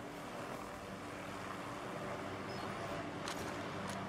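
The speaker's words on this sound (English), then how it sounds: "I hear a heli." Helicopter in the survival game DayZ, a steady droning rotor and engine hum flying overhead, continuous and moderately loud with no talk.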